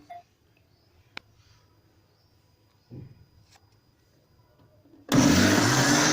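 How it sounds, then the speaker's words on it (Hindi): An electric blender whirs into a loud, steady roar as it blends a strawberry smoothie, kicking in near the end after quiet kitchen sounds and a couple of brief clicks. "अब मैं इसको ब्लेंड करूँगी"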